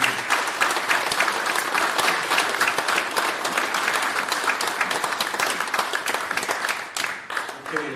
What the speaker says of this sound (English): Let's have a round of applause for those young people